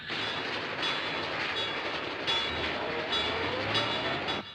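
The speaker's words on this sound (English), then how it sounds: "Hear the train?" A passing train roars continuously, wheels clattering in repeated bursts over the rails, loud and close throughout with no voices.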